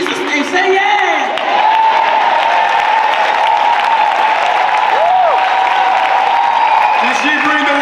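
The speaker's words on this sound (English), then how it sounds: "Let's give her a round of applause, please." Audience at an MLK Day celebration applauding and cheering, a steady loud wash of clapping with voices and whoops mixed in, sustained throughout.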